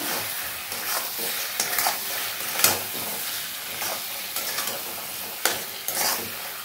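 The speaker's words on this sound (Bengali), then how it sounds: "এবার দিয়ে দেবো হলুদের গুঁড়ো, দিয়ে আবার কিছুক্ষণ মিশিয়ে নেবো" Turmeric powder stirred into chicken gizzards and mushrooms frying in a pan, a steady sizzle broken by several scraping strokes of a spoon, close and clear with no voices.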